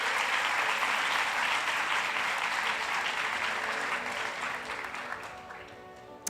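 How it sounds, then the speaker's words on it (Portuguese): A church congregation claps loudly in a dense, sustained wash of applause that slowly fades toward the end, with no voices over it. "Pode aplaudir bem forte."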